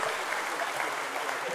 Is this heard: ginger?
no